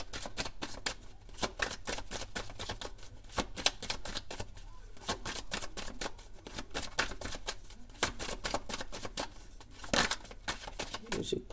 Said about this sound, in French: Allez, on va prendre 9 cartes.